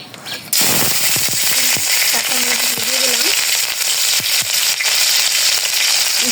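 Hot oil crackling and sizzling in a wok on a home stove, a loud continuous spattering hiss with sharp pops, while a voice speaks briefly.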